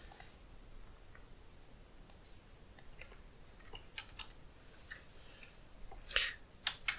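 A handful of sharp, isolated mouse clicks on a Linux computer, spaced irregularly over a quiet background hiss, with a small cluster of faint taps near the end.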